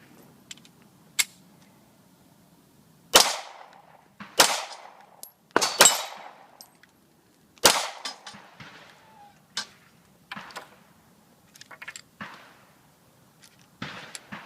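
Sharp gunshots from a Kahr PM9 9mm pistol crack out one at a time at uneven intervals, loud and close, with quieter gaps and fainter pops between.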